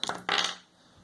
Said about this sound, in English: Let's roll these two dice